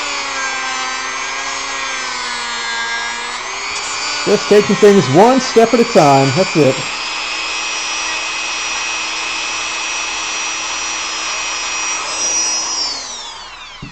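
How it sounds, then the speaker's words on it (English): A Dremel rotary tool whines steadily at high speed while grinding a plastic model part, then someone talks briefly over it before the tool winds down at the end. "then we'll drill down, Dremel down to that pencil point."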